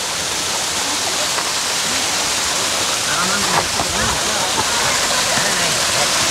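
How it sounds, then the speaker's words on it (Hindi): Waterfall in Jim Corbett Park, a steady, dense rush of falling water filling the scene close by, with faint voices in the background. "वाटरफॉल पे।"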